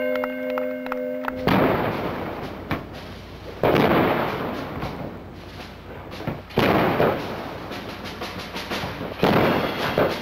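Booming gun salute shots from ships at a US bicentennial naval review, a series of loud, spaced reports with rumbling echoes following a fading bell tone at the start.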